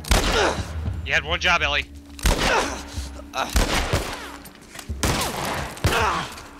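Bursts of gunfire ring out in The Last of Us Part II, several loud sharp volleys with thuds between them while a voice speaks over the action.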